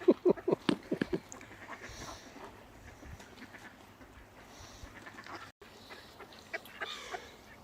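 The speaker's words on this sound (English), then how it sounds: "Oh, it's a mummy duck." A mother duck on a river quacks in a quick burst of close calls at the start, then falls quiet against faint outdoor background noise, with a few soft sounds later.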